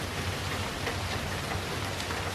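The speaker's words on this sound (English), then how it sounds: "You can see it's getting pretty windy over here, and of course, raining." Steady outdoor rain hisses in a dense, even wash, with a low windy rumble underneath; no one speaks.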